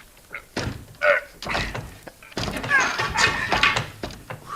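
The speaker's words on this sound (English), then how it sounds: "Try your shoulder on that door, Shaw." In a 1952 radio drama, a man throws his shoulder against a locked door, making several heavy thuds and bangs with short pauses between them, along with a few spoken voices.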